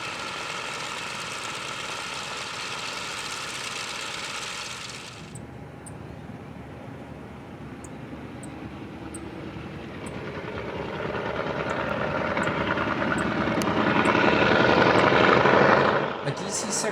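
Piston engines of a 1957 DC-6 bulk fuel tanker preparing for takeoff in Alaska, running as a steady, loud mechanical roar that dips briefly and then swells, with faint clicks over the drone.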